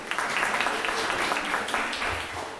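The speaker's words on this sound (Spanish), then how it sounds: "denles un aplauso a los que han dicho discípulos" A church congregation gives a burst of applause, its soft, dense clapping carrying on steadily throughout at a moderate distance.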